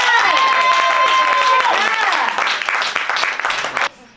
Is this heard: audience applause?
yes